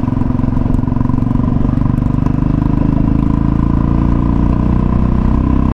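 A Royal Enfield Bullet motorcycle engine thumps loudly and steadily throughout, flames shooting from the silencer, a close, continuous low rumble with a rapid pulsing beat.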